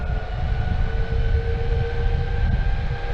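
An Onsra electric skateboard on 105mm Cloudwheels with 40-tooth pulleys, remote in speed mode 3, runs at full throttle: a steady high motor whine with a second tone over continuous loud rumbling wheel and road roar, no talk.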